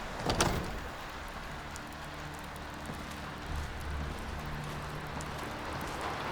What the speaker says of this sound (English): I love the sounds of rain hitting the wind roofs. It's an immersive sounds mod that adds that.